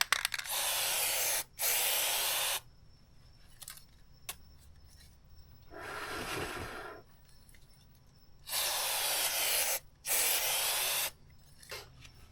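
Bel-Ra SuperClean chain wax is sprayed onto the chain of a Kawasaki Z H2 motorcycle in four loud, close hissing bursts of about a second each, with quieter handling noise and a softer hiss between them.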